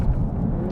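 Steady, loud low rumble of a 2-litre Audi TT Quattro engine, a brief continuous drone with no voices over it.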